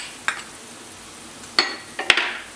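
A spoon stirs chili and fenugreek powder in a pan for Kerala fish pickle, giving a faint sizzle with a few sharp metal clinks and scrapes spaced apart, close and fairly quiet.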